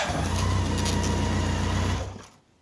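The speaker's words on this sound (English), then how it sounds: "the fuel pump gives a high power whine right before you hit the key" The fuel pump on a 1985 BMW K100 motorcycle gives a steady electric hum and whine close up for about two seconds, then fades out to near silence.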